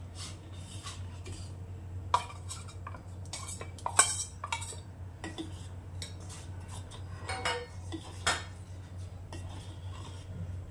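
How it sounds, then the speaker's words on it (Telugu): A spoon scrapes and clinks against a metal pot as ragi flour is stirred into boiling water. The irregular, quiet knocks come over a low steady hum, with no speech. "ఇలా బాగా మరుగుతున్న వాటర్లో ముందుగా రెడీ చేసుకున్న ఈ రాగి పిండిని స్లోగా యాడ్ చేస్తూ కలుపుకోవాలి."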